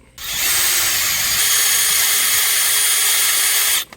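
A power drill bores out worn parts so new ones can be punched in, running as one loud, steady, close whine for nearly four seconds before stopping, with no talking.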